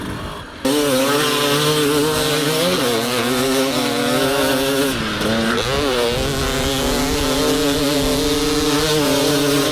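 A 2025 TM 300 two-stroke dirt bike revs up close and loud, its high buzzing engine note climbing, dropping briefly at each shift and climbing again through the gears.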